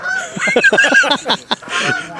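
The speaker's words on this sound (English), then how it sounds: "There's always geese out here for some reason." Geese honk and cackle in a rapid run of harsh calls, close by and loud, with a brief pause before the calls continue.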